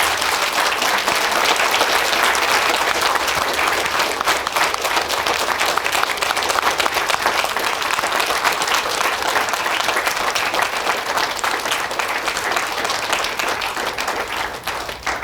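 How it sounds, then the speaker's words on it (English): Sustained, loud applause for instructors at a technical center graduation and awards ceremony, a dense crowd of clapping hands holding steady for the full stretch and easing slightly at the end. "give them a round of applause and thank them"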